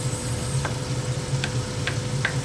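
Onion sizzling in a pan of frying garlic and oil, a continuous close crackle with a low steady hum and a few light taps of a spatula, no speech.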